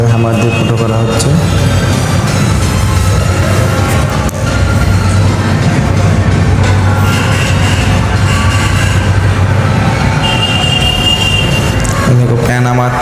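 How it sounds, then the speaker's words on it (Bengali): A hammer drill bores a hole into a wall to take a plastic wall plug, giving a loud, steady, grinding roar with a harsh whine that runs almost unbroken from start to finish. "এই যে ওয়ালে হ্যামার দিয়ে ফুটো করা হচ্ছে।"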